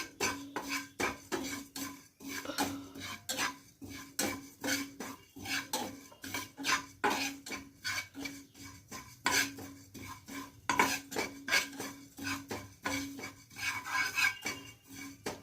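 Dry coconut powder being roasted in a pan, a utensil scraping and stirring in quick, steady strokes, close and fairly quiet, with repeated rhythmic clinks and rasps and no talking.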